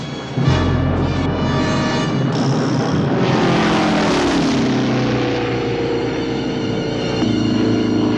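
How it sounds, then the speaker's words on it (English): World War II fighter plane flying, a loud propeller engine drone that swells as it passes overhead and then holds a steady roar, alone without talking. "A World War II fighter plane."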